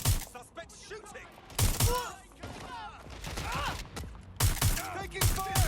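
Gunfire in Watch Dogs: Legion, with repeated sharp bursts of shots punctuating the clip alongside shouting voices and other game noise, fairly loud and close.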